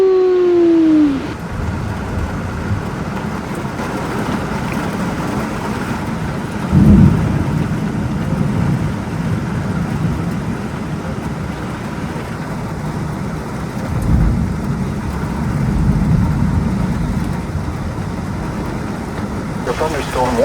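A thunderstorm on Florida's Forgotten Coast, with steady heavy rain and rumbles of thunder, including a loud crack near the start and low rolls later, continuing throughout.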